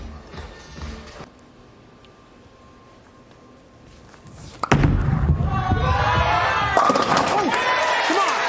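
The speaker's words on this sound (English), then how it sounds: "the nonstop energy and noise and clapping and just the general crowd combustion" A bowling crowd at the PBA World Championship bursts into loud cheering and clapping after a quieter stretch, with a heavy thud as the noise swells, and voices carrying over the din.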